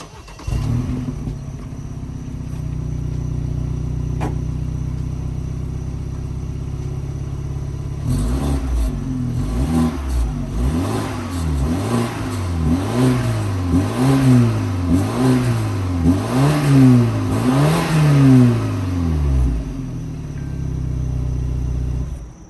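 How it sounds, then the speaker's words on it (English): A BMW F30 320i four-cylinder engine idles steadily, then is revved again and again in rising and falling sweeps before dropping back to idle. Close and loud, no voices. "you can definitely tell it's a 4-cylinder. Let me show you how it sounds"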